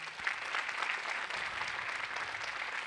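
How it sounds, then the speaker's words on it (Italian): Audience applause at an Italian summer evening event, a steady dense wash of many hands clapping throughout, fairly distant and even, with no talk over it. "un bel applauso"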